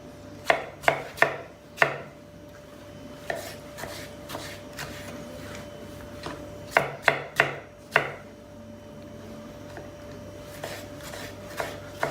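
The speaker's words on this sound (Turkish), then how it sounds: "Burada üç tane de soyulmuş domates var. Onu doğruyoruz." Peeled tomatoes sliced with a knife on a cutting board in a home kitchen, a few quick clusters of crisp chopping taps separated by short pauses, close and fairly loud with no talking.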